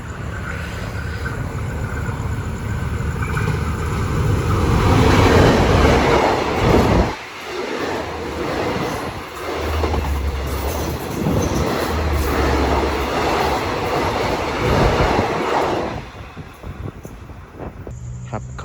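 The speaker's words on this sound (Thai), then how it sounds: "กำลังจะผ่านสถานีรถไฟมลวนครับ" A diesel passenger train rumbles past a station in Thailand with heavy, steady clatter of wheels on rails, loud and close, briefly dipping before the rolling noise resumes and fades.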